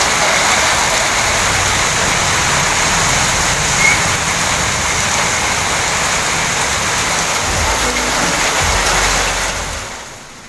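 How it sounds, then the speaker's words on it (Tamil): Heavy rain driven by wind pours steadily and loudly in a dense, unbroken roar across the whole stretch, fading slightly at the very end, with no voices. "காற்றுடன் கூடிய பலத்த மழை பெய்தது"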